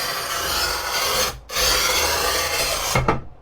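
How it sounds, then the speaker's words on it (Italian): A manual tile cutter blade scores a ceramic tile with a close, continuous gritty rasp that pauses briefly halfway, resumes, and ends with a small knock. "poggiamo la lama sulla piastrella, andiamo avanti"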